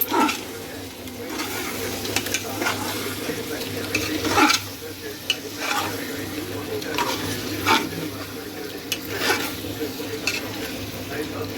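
A spoon stirs masala-coated chicken in a pot for home-style biryani, making a steady scraping, shuffling sound over a soft sizzle that runs through the whole stretch, with a few sharper clinks against the pot.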